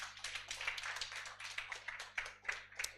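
An audience applauds coordinators and lecturers at a national inter-university constitutional law moot court competition, with steady, moderately distant clapping that swells in uneven bursts and has no talk over it.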